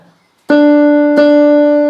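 Two loud electronic keyboard piano-voice notes struck about half a second apart, overloading with a hard, distorted attack and a bright sustained tone that rings on.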